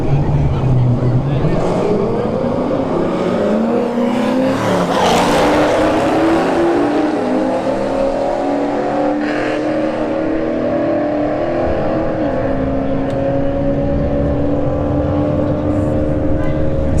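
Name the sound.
C5 Corvette and Trans Am Firebird drag racing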